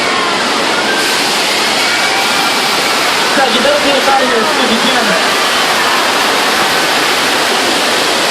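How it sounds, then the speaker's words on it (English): Water rushes loudly and steadily from a broken water main after an earthquake, a constant roaring wash that fills the scene while a voice talks over it. "Water main broke."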